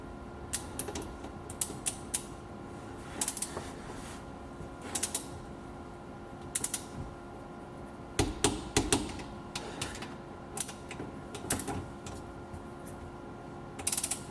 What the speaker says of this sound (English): let's go ahead and get these torqued